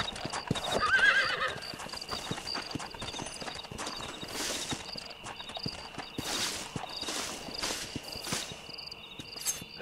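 Horse hooves clip-clop steadily on the ground in the Red Dead Redemption video game, with a brief neigh near the start and a constant chirr of crickets and insects in the background.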